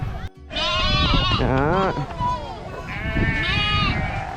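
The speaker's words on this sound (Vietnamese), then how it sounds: "Giới thiệu anh em đây là các chú cừu con" Lambs in a sheep field in Ninh Thuan bleat several times close by, wavering cries mixed with someone talking briefly between calls.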